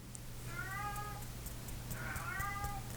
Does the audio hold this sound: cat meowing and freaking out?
yes